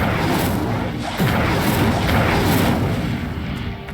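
Incendio fire spell cast in the Hogwarts Legacy video game, a loud booming whoosh of magical fire with a sustained rumbling burst that swells at the start and stays dense throughout, no voices.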